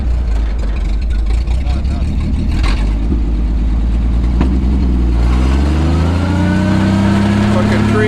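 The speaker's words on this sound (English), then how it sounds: "Truck's pulling back." A 1949 White truck's engine runs loud and steady while the truck pulls back to bring down a tree, rising in pitch as it works harder, with people talking over it.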